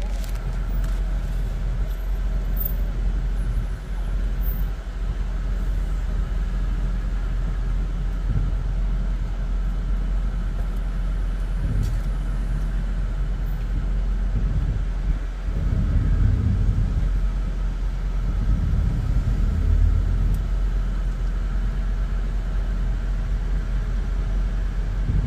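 City traffic in Wellington's CBD, a continuous low rumble of passing cars and heavier vehicles, with swells as engines go by and a faint murmur of voices.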